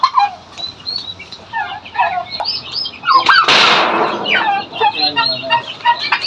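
Turkey chicks chirp in high, close peeps while a turkey lets out one loud, rattling gobble partway through. The calls are bright and layered, and a person's voice may be faint in the background.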